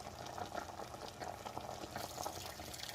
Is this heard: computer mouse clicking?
no